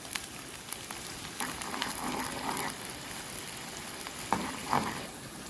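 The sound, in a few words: onions sautéing in hot coconut oil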